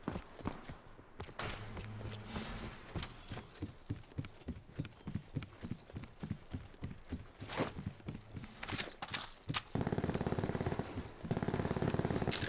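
Gunfire in the Black Ops video game: bursts of rapid shots, some spaced and some rattling together, moderately loud, ending in a denser, louder stretch of continuous fire.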